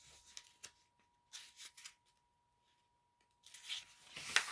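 Digital paper printed for Christmas cards being cut, with short separate snips and slicing strokes in bursts between quiet pauses and a faint steady hum behind.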